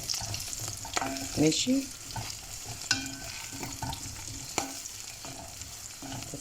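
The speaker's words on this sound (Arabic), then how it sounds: "باخد حبة من الزيت ده اقلب بالمكرونة" Pasta is tossed with oil in a pan, soft sizzling under repeated spoon scrapes and clinks at close range, with a brief word from a woman.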